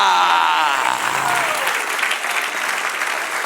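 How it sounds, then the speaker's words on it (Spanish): A church congregation breaks into loud, sustained applause during a worship service, a dense wash of clapping that continues steadily throughout with no voices over it. "Dale un aplauso al Señor."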